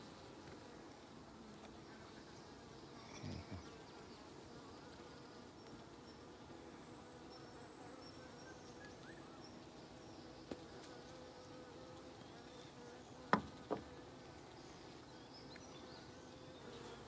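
Honeybees buzzing around a hive, a faint steady drone throughout with a few soft knocks near the end, no talking.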